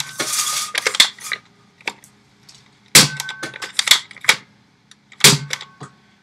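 A Nerf Maverick Rev-6 blaster, modified with an improved seal and trigger catch and loaded with three Elite darts, fires with sharp, close plastic clacks in three main bursts, each followed by smaller rattling clicks.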